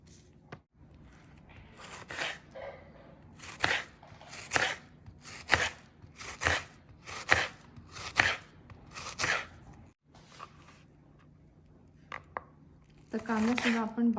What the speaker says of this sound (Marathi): बारीक शिरून घेणार आहोत अगदी हे बघा अशा पद्धतीने बारीक शिरायचं आहे